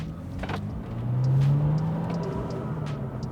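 A car accelerates hard on the road, its engine note rising and swelling loud mid-clip before easing as a gear change comes, with a steady low rumble throughout and no talking.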